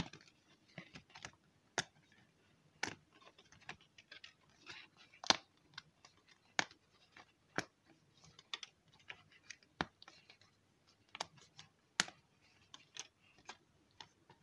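Paper game cards for a children's observation and detective puzzle are punched out of their printed sheet one after another. The result is a quiet, irregular series of sharp snaps and ticks that sound close.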